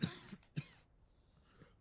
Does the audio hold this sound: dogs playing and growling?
no